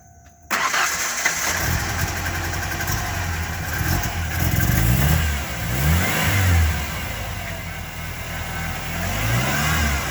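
A 1993 Ford Ranger with an idling problem cranks and fires up, then its engine revs up and down in several swelling bursts, loud and close, with no talking.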